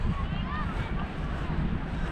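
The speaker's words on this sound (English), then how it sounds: "It's quite windy." Steady wind buffets a camera microphone fitted with a windscreen beside a lake in northern New Jersey on a breezy early-May day, making a continuous low rumbling roar with no clear break.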